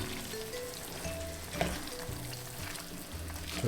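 Noodles are stir-fried in a pan with a soft, steady sizzle and occasional scraping and tossing noises, fairly quiet and without talk.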